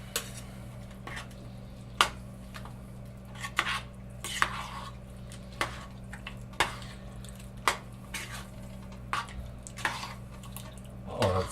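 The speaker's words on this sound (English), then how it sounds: "So stir those in." A spoon stirs ingredients into a pot of spaghetti meat sauce with fresh greens, giving soft irregular scrapes and knocks against the pot, spaced a second or so apart over a low steady hum, with no talk.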